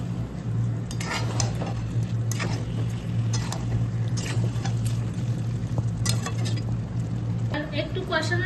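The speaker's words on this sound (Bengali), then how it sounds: "এটাকে কষাতে থাকবো।" Mutton sautés in a pot while being stirred, with a continuous close sizzle, spoon scrapes and occasional light clinks over a steady low hum, and a brief voice near the end.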